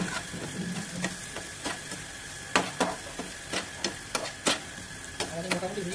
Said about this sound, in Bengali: আমাদের মোটামুটি ভেজিটেবলগুলো ভাজা হয়ে গেছে